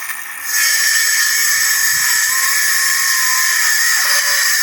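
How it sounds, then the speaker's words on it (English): A small cordless drill with a weak battery whirs close up in a steady whine, its pitch dipping and sagging slightly as it strains. "it's actually a smaller size for just a small drill"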